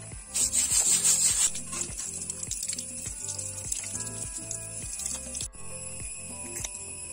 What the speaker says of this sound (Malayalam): നമുക്ക് ഈ മീനൊന്ന് ക്ലീൻ ചെയ്തെടുക്കാം.